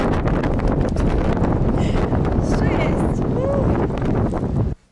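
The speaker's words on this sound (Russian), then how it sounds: "Ветер на улице ужасный просто." Strong wind buffets the microphone in a loud, continuous rumbling roar on a cold street in Rostov, with faint voices and street sounds underneath, cutting off abruptly at the end.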